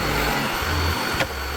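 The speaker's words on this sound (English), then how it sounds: "I whipped out my big vacuum" A large household vacuum cleaner runs continuously at close range on carpet, with a steady loud whooshing motor roar and a brief sharper swell partway through.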